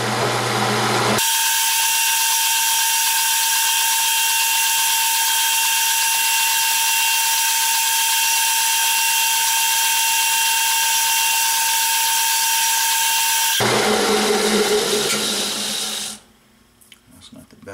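A lathe turns a titanium suppressor blast baffle at 300 RPM, giving a steady loud machining whine and hum that runs continuously for most of the clip before stopping and winding down.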